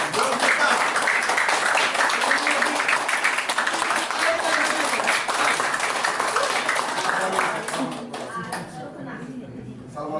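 Loud, dense applause from a large crowd at a leadership training seminar, steady clapping for about eight seconds before thinning out near the end.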